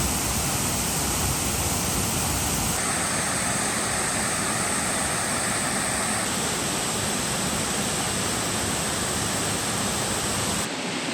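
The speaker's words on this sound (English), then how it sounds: "Here's the waterfalls, it's beautiful." A waterfall at Mina Creek near Babinda, Queensland, roars as a loud, steady wash of broadband rushing water that fills the whole stretch without pause, close and unbroken.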